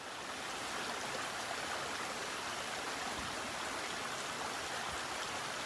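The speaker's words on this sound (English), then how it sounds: "I'm going to leave you with a shot of this little creek after I fill my water bottle" A small creek flows along the Appalachian Trail near Rutland, Vermont, giving a steady, even rush of water that stays fairly soft and unbroken throughout, with no voices.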